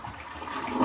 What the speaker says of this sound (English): So once you flush the toilet,